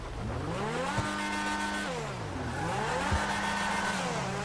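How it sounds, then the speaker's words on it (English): Lampadati Tigon sports car in GTA Online, engine revving up through rising gear shifts with a drop between them, then climbing again, moderately loud and with no talk. "Good acceleration. Pretty good acceleration. Yeah, it's a pretty fast car."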